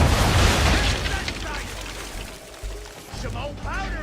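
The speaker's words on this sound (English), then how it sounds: "Hit those old powder barrels and light up the sky." Powder barrels on a ship blow up under cannon fire in Assassin's Creed III, a loud booming blast at the start that rolls into crackling rumble, with fainter bursts and voices coming through later.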